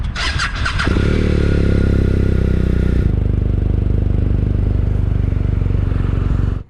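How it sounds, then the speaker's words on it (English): A BMW R 1250 RS sport-touring motorcycle revs loudly and close up, its boxer engine climbing through a hard acceleration and then settling into a steady, throbbing drone with no talking. "It's an R 1250 RS, which is kind of a sportier version of the bike that I'm very familiar with, the R 1250 GS."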